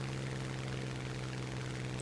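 Bomber aircraft engines in the War Thunder video game, a steady droning propeller hum with a low tonal throb, continuous and fairly faint with no talk.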